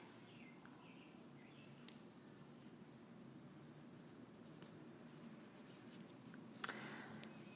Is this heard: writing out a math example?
yes